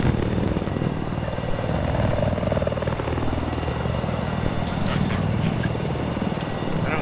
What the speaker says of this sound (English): we got an attack chopper on us